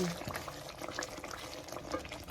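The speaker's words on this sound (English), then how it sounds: "Give this a stir. Allow this to cook a bit" Fish stew simmering in a pot for Ghanaian Fante Fante fisherman's stew being stirred, with a steady bubbling, sizzling bed and soft scraping and clinking of the spoon close up.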